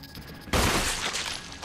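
A single sharp gunshot in the video game Resident Evil Remake cracks out loud and close after a quiet moment, followed by a decaying tail and a faint effect at the end.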